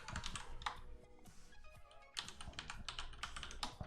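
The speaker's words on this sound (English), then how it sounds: "And so I'm just typing the most complicated words I can think of." Rapid typing on a computer keyboard, dense irregular clicking and clacking of keys at close range with a short pause partway through, then bursts of continued keystrokes.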